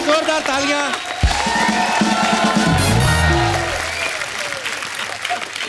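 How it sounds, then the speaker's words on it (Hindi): A studio audience on a TV comedy show breaks into loud applause and cheering, a dense sustained roar of clapping that swells and then gradually thins, with a host's voice heard over the start. "चंदू के लिए जोरदार तालियां।"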